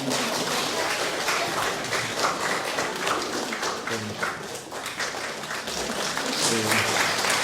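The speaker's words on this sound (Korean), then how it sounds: "우리 박수 한 번 더 할까요?" A church congregation at a pastor's installation service applauding, sustained clapping from many hands in a room, fairly even and continuous with a few voices mixed underneath.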